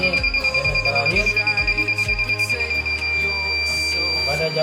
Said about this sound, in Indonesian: Pada jarak di bawah 6 cm, suara buzzer akan seperti ini